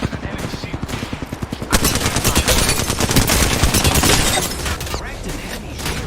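Gunfire in a video game: sustained automatic fire that starts as evenly spaced shots, then swells into a dense, loud stream of rapid bursts and booms, with game voice callouts mixed in.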